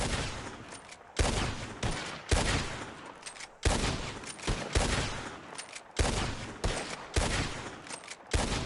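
Repeated volleys of gunfire in Red Dead Redemption 2, loud, close shots firing in quick clustered bursts, roughly a dozen sharp blasts with brief gaps and ringing decay between them, no talking.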